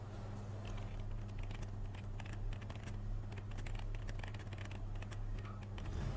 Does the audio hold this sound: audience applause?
no